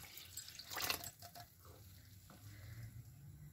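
Reserved cooking water from boiled horse gram (kulthi) dal is poured into a pot of Himachali dal curry, a brief soft splash followed by quiet watery dripping and faint simmering.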